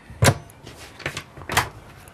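A sliding door in a home moves in its track, three soft rolling swishes with thumps, fairly close and quiet, with no talk over them.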